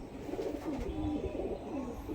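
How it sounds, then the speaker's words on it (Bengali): Pigeons, a flock kept by a Krishnanagar pigeon keeper, give soft low cooing calls with faint fluttering over a steady background hum, close by and quiet. "পায়রা ছটপট করছে"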